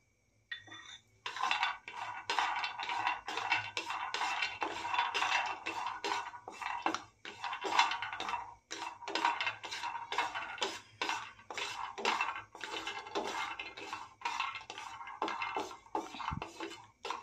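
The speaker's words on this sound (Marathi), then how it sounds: "त्यानंतर बदाम भाजून घेऊयात." Almonds are dry-roasted in a pan, rattling and clinking continuously as they are stirred and tossed, with a close, busy, uneven clatter that runs throughout.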